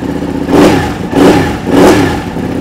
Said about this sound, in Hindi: SC project titanium original not replica original exhaust full system.